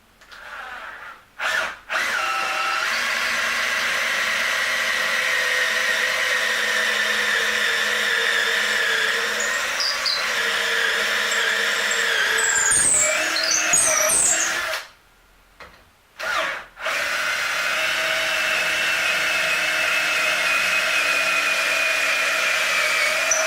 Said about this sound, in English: I'm going to start out by drilling through these 2 holes here